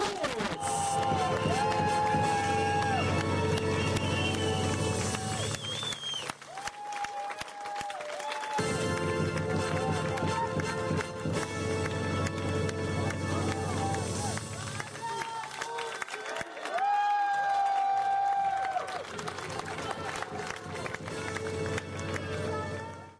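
Audience applause and cheering at a billiards awards ceremony in Yakutsk as the Grand Prix winner is announced, a long, loud, steady wash of clapping over music, briefly dipping twice before swelling again.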